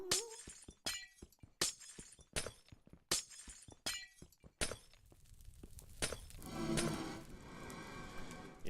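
Glass blocks shattering in Minecraft on a blaze farm: a rapid series of sharp, bright breaks in quick rhythm, followed by softer clinks and game noise.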